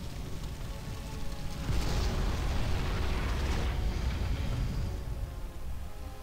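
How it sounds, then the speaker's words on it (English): Explosion in the video game Dungeon Siege 2, a rumbling blast that swells to a broad roar and slowly dies away over several seconds, no talk over it. "It's a valiant attempt at an explosion."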